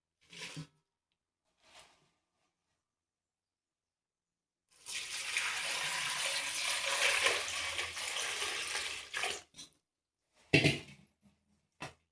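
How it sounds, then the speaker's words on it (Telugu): Gongura (sorrel) leaves are washed in water: a few short splashes and rustles, then about five seconds of steady, close sloshing and swishing, followed by a couple of brief splashes and handling sounds, with no talking. "మొదటగా పుండుకూరంత కడుక్కోవాలా ఫస్ట్ మనం పుండుకూర కడుక్కుందామని"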